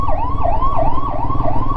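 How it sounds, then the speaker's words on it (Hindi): An ambulance siren wails loudly and continuously in rising and falling cycles amid road traffic noise, with no talking. "एम्बुलेंस आ रही है पीछे से,"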